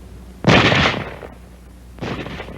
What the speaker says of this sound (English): It can fire only as fast as a man can open and close the bolt.